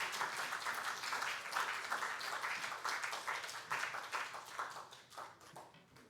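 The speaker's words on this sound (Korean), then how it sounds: "박수로 맞이하겠습니다" Steady applause from a church congregation at a Friday prayer meeting welcoming Pastor Kim Gwang-myeong, dense clapping holding at an even level for about six seconds and tapering slightly at the end.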